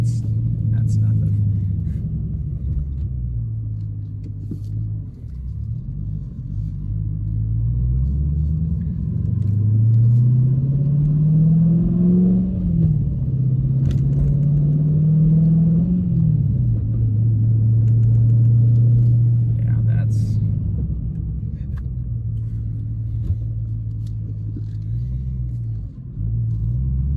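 A Dodge Challenger or Charger Scat Pack with a Barton short shifter drives along with a deep, steady engine rumble that rises and falls through gear changes, heard from inside the cabin with people talking over it.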